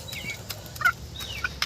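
Young chicks feeding at night, with soft high peeps and chirps scattered across the clip, near and moderately quiet with faint background noise.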